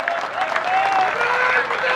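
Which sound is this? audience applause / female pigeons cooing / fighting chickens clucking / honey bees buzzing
audience applause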